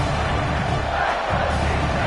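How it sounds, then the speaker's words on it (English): A roaring home stadium crowd in the CFB 26 college football game, steady and dense across the whole stretch, a loud broadband wash of cheering with no single voice standing out. "how nice is it to have the home crowd going absolutely bananas?"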